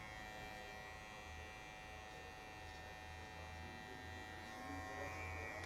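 Electric hair clipper buzzing steadily as its corner tidies a mid fade haircut, a constant close, low-level hum with no voices over it.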